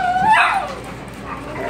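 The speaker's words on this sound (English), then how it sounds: "So the only dogs we've got left in the kennels now are Callie, Lobo, and Charlie." Dogs play excitedly in a house pack. There is a high whimpering whine, then a short yip. The sounds are close and brief, with light scuffling after.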